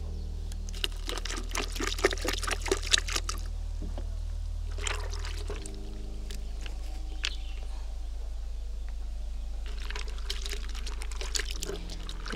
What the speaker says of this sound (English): After, I get my clean water to wash these pumpkin seeds.